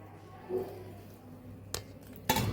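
A metal lid set down over a pot of hot oil and asafoetida, giving two sharp clanks about half a second apart after a softer clink, close and fairly quiet over a low steady hum.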